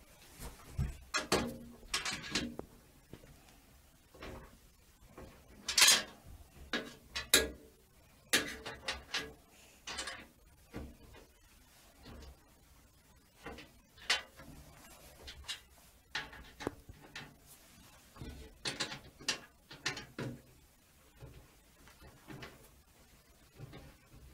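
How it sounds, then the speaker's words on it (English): A small tool tightening motherboard standoffs during a PC build, with a scatter of close, light clicks and metallic ticks in irregular bursts throughout, fairly quiet with no talking. "Now we have our tool for tightening the standoffs."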